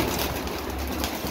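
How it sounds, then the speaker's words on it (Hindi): Pigeons coo softly and close by, a low, throaty murmur repeating over a faint background hum. "ये देखें जी कबूतर"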